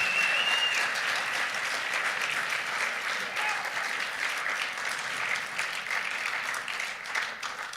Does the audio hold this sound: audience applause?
yes